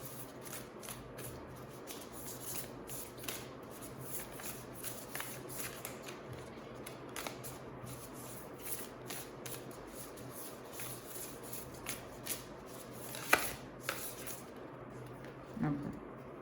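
A deck of tarot cards is shuffled over and over in a quiet room, giving a steady run of soft papery riffles and flicks with a few sharper snaps.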